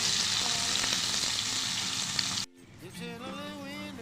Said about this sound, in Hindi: अब जो प्याज जो है हम उसी ऑयल में शामिल करेंगे जिसमें हमने अंडे फ्राई किए थे